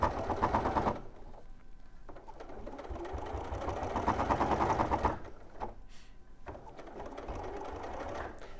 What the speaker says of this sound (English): sew the arm in now